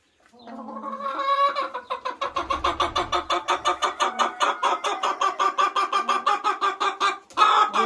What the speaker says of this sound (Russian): Вот так вот курица издает такие звуки.